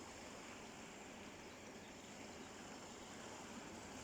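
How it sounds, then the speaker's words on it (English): Gentle waves lapping at Moosdale Beach at dawn, a soft, steady wash heard faintly and continuously with no voices. "to listen to the lapping waves here in Moosdale Beach"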